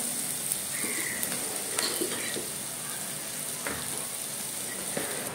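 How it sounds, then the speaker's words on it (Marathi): Onion sautés in a pan for a Maharashtrian fish curry, giving a fairly quiet, continuous sizzle with a few light clicks and pops. "अर्धा कांदा, कांदा परतायला सोडून देऊया"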